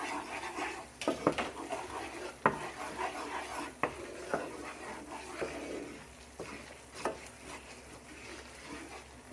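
Tomato paste being stirred into the sauce for Hungarian stuffed peppers, close scraping and rubbing strokes of a spoon in a pot, irregular and fading toward the end.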